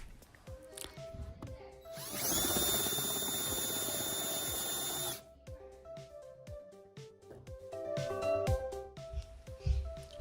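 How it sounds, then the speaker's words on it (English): A power drill bores into a wooden stair post in one sustained, whining burst of about three seconds, loud and close, framed by quieter tool clatter and small knocks before and after. "As I'm drilling, I get to a stopping point which doesn't allow me to drill any further."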